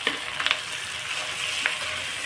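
Shallots and tomatoes for drumstick thokku sautéing in a pan, a close steady sizzle broken by a few soft stirring scrapes.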